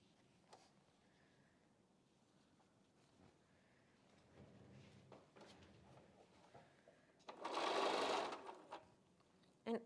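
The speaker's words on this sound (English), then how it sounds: "And as I'm sewing, I always match up my corners and my edges." A sewing machine stitches quilt strips pieced from leftover fabric, a short loud whirring run of rapid needle strokes after quiet handling noises and light rustling, close by and without speech.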